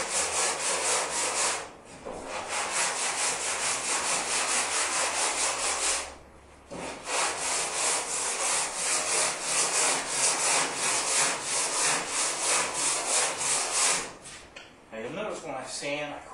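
A 1959 Chevy pickup hood being hand-sanded with 80 grit sandpaper, loud rhythmic rasping strokes in long runs broken by two brief pauses, with a voice briefly near the end.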